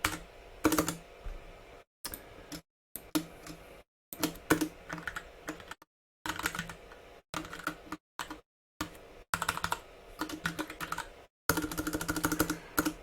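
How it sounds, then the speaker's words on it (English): Computer keyboard typing during a programming session, bursts of quick clacking keystrokes broken by short silent pauses, close and fairly loud with no talking. "Oh, typing, so hard."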